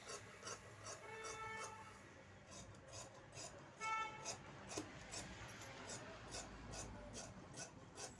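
Scissors cut through fabric for a tailored sleeve, making faint, repeated rasping snips in an uneven rhythm, close by and quiet, with no talking.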